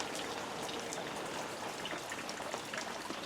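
Light rain falls steadily at night in Prescott, Arizona, a dense, even patter of drops on surfaces holding at a constant level throughout with no talk.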